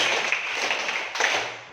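A class claps hands in short counted patterns during a teaching practice session, a dense burst of clapping that briefly pauses and resumes, close and fairly loud.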